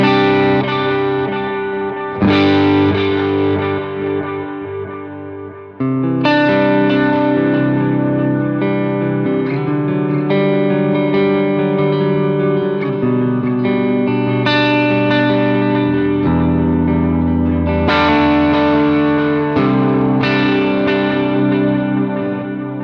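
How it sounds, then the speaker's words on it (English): Sustained distorted electric guitar chords through a dotted-eighth stereo ping-pong delay, heavy repeating echoes cascading and bouncing from side to side, played loud and alone without any voices. "Here in stereo, you can hear that it kind of ping pongs back and forth."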